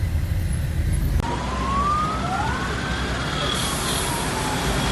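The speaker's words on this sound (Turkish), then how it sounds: "itfaiye gelmiş" A fire truck siren wails in a long rising and falling sweep at a crash scene between a minibus and a car, loud and steady over constant traffic rumble, with no talking.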